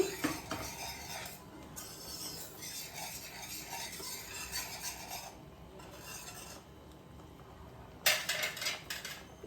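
A spoon scrapes and clinks around a pan as milk seasoned with pepper and salt is stirred for white sauce pasta, in soft repeated strokes with a louder clatter near the end, close and without talk.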